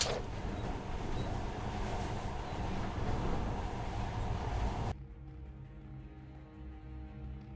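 A monorail train in the video game Metro Last Light rumbles steadily with a broad rolling roar that cuts off abruptly, leaving a quieter low hum with tonal drones.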